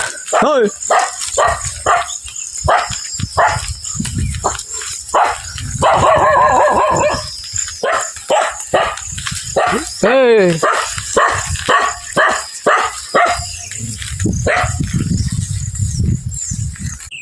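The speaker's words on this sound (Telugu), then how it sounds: "కుక్క ఒకటి మరుగుతూ ఉంది చూడు" A dog makes low, rumbling vocal sounds with occasional sharper barks and whines, close by, over ongoing outdoor chatter.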